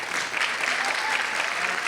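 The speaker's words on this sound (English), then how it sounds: "That deserves another round of applause." Steady, dense applause from the audience at a women's graduation ceremony honoring a graduate, filling the whole brief moment at an even, fairly loud level.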